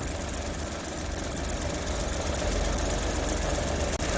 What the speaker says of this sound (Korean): 인젝터 교환하고 시동을 걸고 워밍업을 하고 있습니다